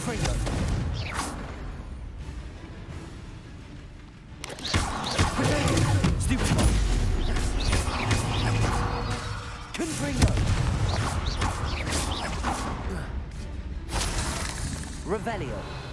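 Confringo blasting-curse explosions in Hogwarts Legacy, a dense run of booming, shattering blasts that swell loudly after a few seconds and carry on with repeated impacts, with a voice speaking among them.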